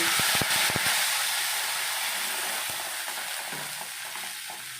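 Water poured into a pan of village-pond fish and komli greens sets off a loud, steady sizzle and hiss, with a few sharp clattering stirs early on before the boiling bubble settles to a softer, constant simmer.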